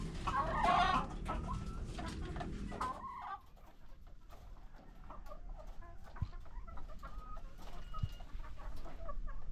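Backyard chickens kept for eggs cluck and call, loudest at the start with a busy burst of squawks, then continuing as softer scattered clucks at moderate distance, with no talking.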